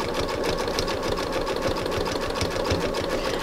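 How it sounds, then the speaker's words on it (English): A sewing machine stitches around a fabric-covered rope basket, its needle hammering in a fast, even mechanical rhythm, close and steady throughout with no talk. "I'm going to go around and give this another stitching all the way around where I want the bottom of the basket to be."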